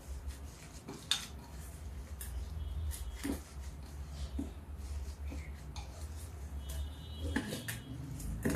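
Bread and onion pakora batter is mixed in a bowl with a spoon, making soft wet squelching and scraping punctuated by occasional sharp clinks against the bowl, close and fairly quiet.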